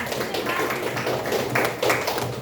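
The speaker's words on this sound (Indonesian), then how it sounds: "Oke, tepuk tangan." A classroom of pupils clapping their hands together during a primary-school lesson, a dense, steady patter of many hands sustained throughout, with no voices.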